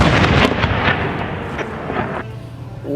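A heavy explosion by a building in the Iraq war, set off by a grenade or shell: a rapid string of booming bursts and crackling blasts, loud and close, fading into a rumbling tail.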